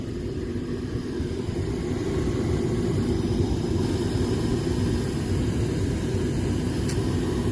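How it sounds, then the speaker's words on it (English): An HVAC furnace blower runs with a steady, loud, broadband rushing hum that does not change throughout. "I know my blower is going."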